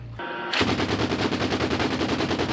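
Rapid machine-gun fire from a combat vehicle bursts out after a brief lull, a fast, loud, sustained rattle of shots repeating evenly, in the Chasiv Yar war zone.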